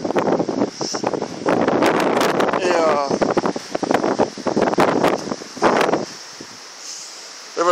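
Strong wind storm roars and buffets the microphone almost continuously at a mountain campsite at dawn while a person talks over it, with gusts rising and falling.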